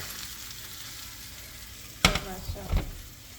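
Fish fillets for tacos sizzle steadily in a hot pan, a soft continuous frying hiss broken by a sharp clatter and a louder burst of sizzling as the pieces are flipped.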